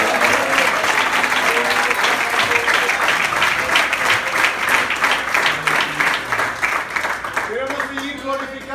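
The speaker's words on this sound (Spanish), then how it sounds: "Una vez más, le podemos dar un aplauso al Señor." A church congregation applauds steadily and loudly for several seconds inside a sanctuary, dense clapping throughout, with voices rising and a speaker beginning to talk near the end as the clapping thins.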